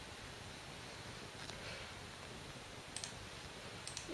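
Mouse clicks and Enter key presses on a Windows 8 computer, a few faint, sharp clicks scattered over steady background hiss, with no voice present.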